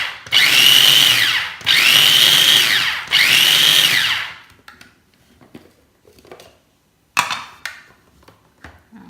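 A food processor pulsing cake crumbs into a sand-like texture, three loud whirring bursts with short gaps between them. Quieter clatter follows, then a brief fourth burst.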